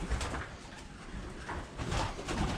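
Pigeons stir inside an abandoned mill, heard as a steady, soft, noisy rustle and flutter that fills the space, with no talking.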